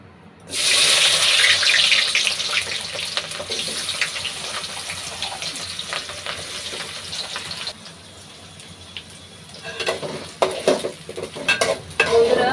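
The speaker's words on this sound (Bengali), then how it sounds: "এবার আমরা পেঁয়াজটা দিয়ে দেবো তেলের মধ্যে" Onions hit hot smoking oil for a mutton rezala and erupt into a loud sizzling hiss, which settles into steady frying, then fades, with stirring clatter and utensil knocks near the end.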